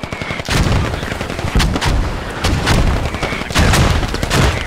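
AK rifle fire in the game Squad, loud and close, with rapid bursts of sharp shots arriving in several separate volleys over a few seconds and no talking.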